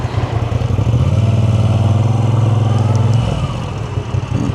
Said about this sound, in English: I would like to hear this bike with a better exhaust